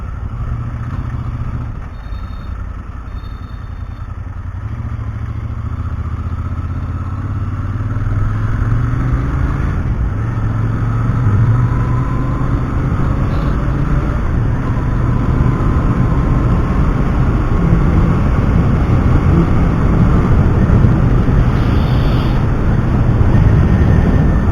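Wind and traffic roar while riding a Royal Enfield Interceptor 650, picked up by a mic inside an SMK Twister helmet: a dense, rushing drone with a low engine undertone that swells louder as speed builds.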